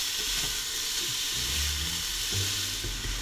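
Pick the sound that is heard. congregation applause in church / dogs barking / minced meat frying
minced meat frying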